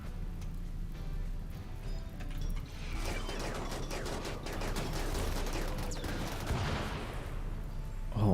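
Inferno Cannon firing in RimWorld, a sustained rattling, crackling barrage that builds after a quieter mechanical start and continues dense and steady, with no talk over it.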